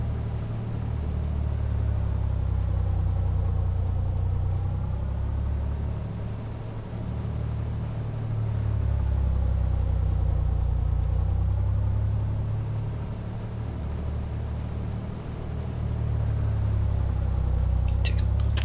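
A light aircraft's piston engine drones steadily during a run-up in a flight simulator, a loud continuous low hum whose pitch and level dip and rise slowly as RPMs drop and recover, alone without speech.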